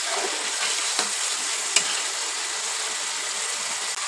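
Tomatoes drop into hot oil for a fish curry of bele (sand goby), setting off a steady, dense sizzle with a couple of brief stirring clicks, close and continuous throughout.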